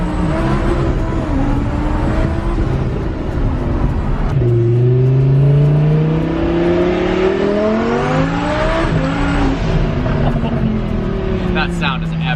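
A twin-turbo Lamborghini Huracán heard from inside during a drive, its engine rising through the revs in loud sweeping pulls with shifts between them, a constant roar in the cabin.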